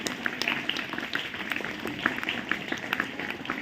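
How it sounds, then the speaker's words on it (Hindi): An audience applauding at a motivational talk, a dense, steady patter of many hands clapping throughout, moderately loud and somewhat distant. "जोरदार ताली से आज के दिन का स्वागत करिए।"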